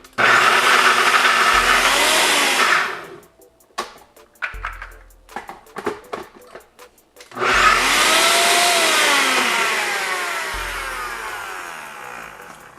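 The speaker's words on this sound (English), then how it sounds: "And then you're gonna blend." A top-loader blender whirs at full power through homemade hummus in two long loud bursts. Between them come a gap of clattering and shaking noises, with no talk.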